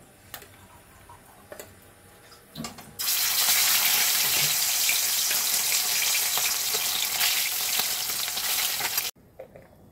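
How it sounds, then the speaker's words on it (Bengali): Fish drops into hot oil after a few soft clinks, setting off a loud, dense sizzle that holds steady for about six seconds and then cuts off abruptly. "মাছের তেল গরম হয়ে গেছে, এবারে মাছগুলো আমি ভাজবো।"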